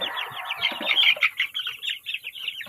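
Chickens, including roosters of Lohmann and Sussex type, clucking close by on a backyard smallholding, a busy run of short, rapid clucks and calls overlapping one another.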